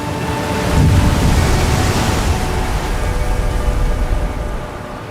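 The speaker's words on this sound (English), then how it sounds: "when you just listen to the sound of the waves" Atlantic waves surge and wash inside a sea cave, making a loud, continuous, hollow rushing roar that swells slightly and then eases, with wind buffeting the microphone. No one speaks.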